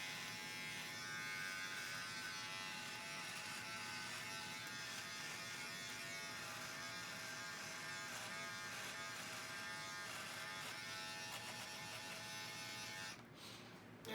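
Electric beard trimmer buzzing steadily and close up while trimming and shaping a beard high along the neckline, a continuous whine that changes slightly in pitch as it moves, stopping abruptly near the end.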